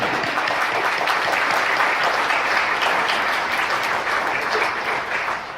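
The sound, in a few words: audience applause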